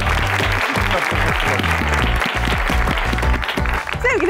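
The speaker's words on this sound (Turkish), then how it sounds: "büyük bir alkış istiyorum." Studio audience on a Turkish talk show applauds a chef guest, the clapping heard under loud rhythmic band music with a strong beat, staying constant throughout.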